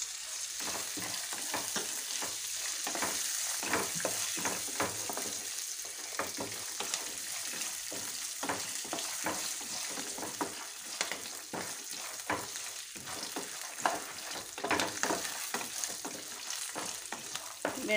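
Peanuts frying in a pan with green chili, stirred continuously so a dense clatter of spoon scrapes and rolling nuts runs over a steady sizzle, close and moderately loud, with no talking.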